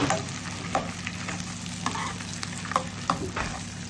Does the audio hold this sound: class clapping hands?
no